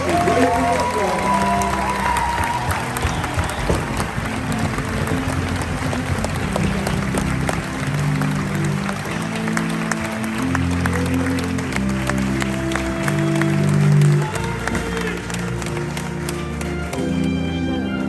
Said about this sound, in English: please join us in a round of applause for the United States Army Infantry Rifle Squad